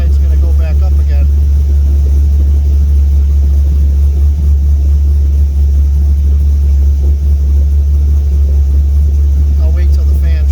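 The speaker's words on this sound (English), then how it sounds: "I'll wait till the fan shuts off." Cooling fan on a 1992 Camaro LS2 with air conditioning running, a steady loud whooshing drone over low engine hum, unchanging throughout with no voices.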